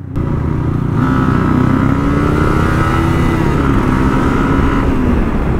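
A superbike's engine revs hard and continuously at close range, its loud, steady roar with rising pitch sweeps holding for several seconds without talk.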